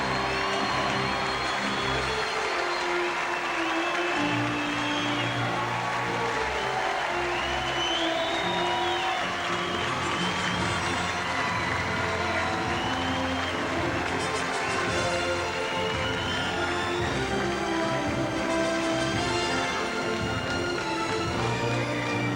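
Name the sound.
crowd cheering and applauding at beach volleyball gold medal match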